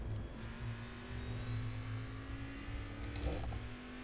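Race car engine in the iRacing sim game accelerating hard out of a tight corner at Laguna Seca, a steady mid-pitched drone that stays loud throughout with a brief surge near the end, heard alone without talk.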